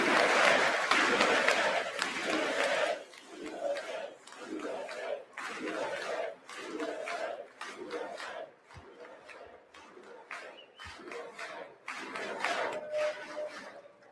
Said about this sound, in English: there's some Dems, most not, but some Dems are clapping.